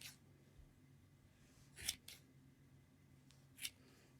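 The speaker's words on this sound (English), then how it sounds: "Then we'll take our scissors and we'll cut those loops." Scissors snip through crochet yarn loops on a snowman square, giving two brief, quiet cuts against a hushed room background.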